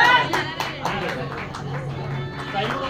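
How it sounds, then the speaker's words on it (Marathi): An audience applauds at a dairy-sponsored reels competition prize ceremony, a steady patter of clapping that carries on throughout while a presenter speaks over it. "टाळ्या वाजत राहू द्या"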